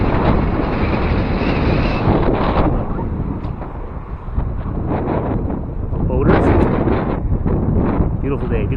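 Strong wind gusts batter the microphone near an old power plant district by the water, a loud continuous rushing roar that rises and falls without pause.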